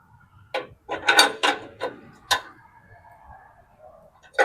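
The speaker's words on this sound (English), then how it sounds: "Get our wrench." Ratcheting wrench tightening an oxygen sensor back into a car exhaust during an oil change and O2 sensor repair: several short clicking ratchet bursts close up, a quick cluster of strokes then a pause and a final click, no talk.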